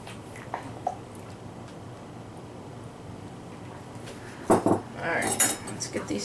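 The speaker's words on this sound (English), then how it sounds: "Alright, let's get these stirred in." A metal utensil clinks and scrapes against a container while lemon fragrance is stirred into a batch of soap, quiet at first, then a burst of louder clinking and scraping near the end.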